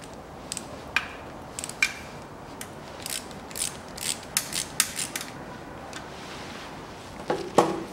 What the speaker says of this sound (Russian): И теперь уже опять затягиваю и прикручиваю воздушный фильтр.